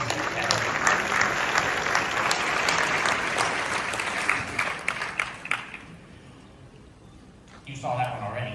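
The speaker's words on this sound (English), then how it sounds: "just give yourselves a round of applause for what you do to create this success." Loud, sustained applause from a large audience at a LifeWave company event, dense clapping that tapers off near the end before a voice comes in.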